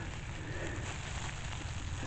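Steady rain falls during a warm February shower, a dense, even hiss of drops holding at the same level throughout with no voices.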